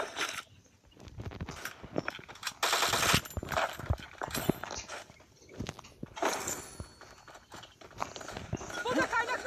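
Video game gunfire crackles in rapid bursts through a busy mix of other in-game sounds, moderately loud, with a voice speaking at points over it.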